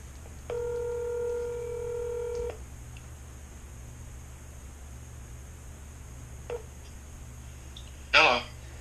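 Telephone dialing tones on a call placed to a film composer, a steady multi-tone beep sounding for about two seconds, followed by a faint short click and a brief louder rustle against a low background hum.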